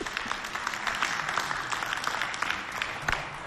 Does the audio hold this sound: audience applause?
yes